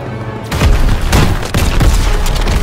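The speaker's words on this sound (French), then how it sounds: "Trouvez un lance-roquette allemand Parfait Tire sur ce panzer" A German rocket launcher fires on a Panzer tank in the Call of Duty WW2 video game, delivering loud, close booming blasts with rumbling echoes in quick succession, back to back through the short stretch.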